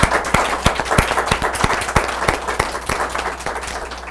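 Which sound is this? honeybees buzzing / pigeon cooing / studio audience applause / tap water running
studio audience applause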